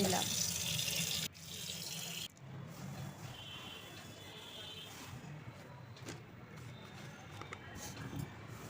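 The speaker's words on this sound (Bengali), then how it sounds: "এগুলোর মধ্যে থালা রেখে খাওয়া হয়েছিল এগুলোকে ধুয়ে" Dishes are rinsed under a running kitchen tap. Loud, close water flow at first, then it eases into quieter splashing and clinking, with a voice audible in the background.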